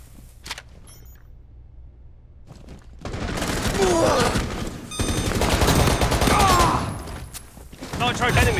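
Gunfire in the mobile tactical shooter Rainbow Six Mobile comes in dense bursts of rapid shots after a quiet opening with a few isolated clicks, loud and sustained through the second half.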